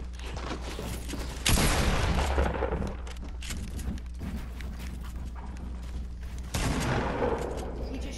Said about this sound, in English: This man really be shooting me through walls